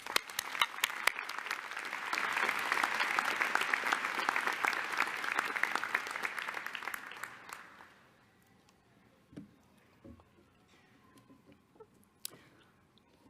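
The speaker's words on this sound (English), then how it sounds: "Please join me in applauding these individuals" An audience at a law school convocation applauds donors, with steady clapping for about eight seconds that fades into near silence broken by a few faint scattered sounds.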